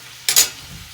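A spoon scrapes once through green bell pepper curry in a pan, a brief close swish with no other sound around it.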